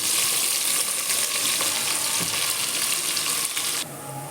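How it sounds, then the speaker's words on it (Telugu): Onions fry with cardamom and cloves in a pan for tomato rice, a dense, continuous close sizzle with light stirring, easing slightly near the end, with no voices. "కొంచెం ఇది వేగిన తర్వాత ఆనియన్, కొంచెం ఫ్రై అవ్వాలండి"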